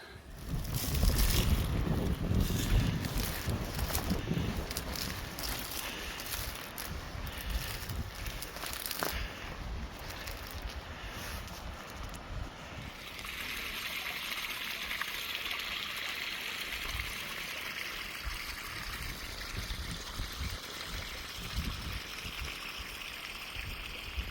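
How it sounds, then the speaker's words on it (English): Steady wind noise buffets the microphone, with low rumbling gusts at first that settle into a continuous airy rush. "That's the wind picking up"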